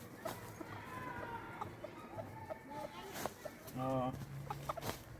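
A hen clucks repeatedly near a tree in a rural yard, with several short clucks and one louder call close by, over steady background chatter and people talking.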